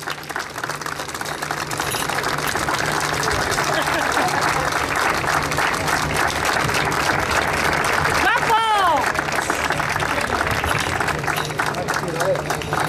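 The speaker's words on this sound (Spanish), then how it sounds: "El fortísimo aplauso que se lo merece" Loud, sustained applause from a crowd honoring a man who kept the seafaring sword dance tradition of Baiona alive for 40 years; the clapping fills the whole stretch with a brief whistle near the end.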